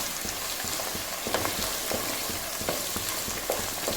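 Curry leaves sautéing in a pan for lemon pickle, giving a close, continuous crackling sizzle with light rhythmic stirring scrapes and no talking.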